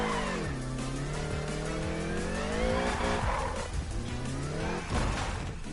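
A Corvette in the Need for Speed racing game, its engine revving and shifting through sweeping pitch changes, with tire squeal and skidding. The engine note is loud and continuous throughout.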